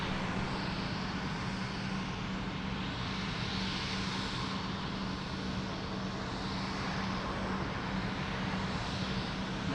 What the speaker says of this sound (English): Nice private jet.